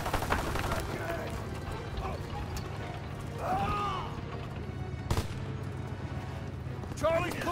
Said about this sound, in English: Keep firing. You need covering fire.